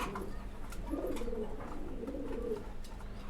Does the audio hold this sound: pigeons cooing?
yes